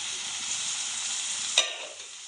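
Ginger pieces and crushed small onion cloves sizzle in hot oil while a ladle stirs them, a steady bright frying hiss with one sharp scrape near the end before the sizzle drops away.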